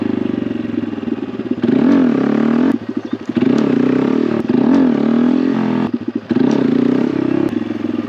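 A Honda Grom motorcycle engine revs loud and close during clutch-drop wheelie attempts, rising and falling in pitch, with clattering drivetrain noise between bursts.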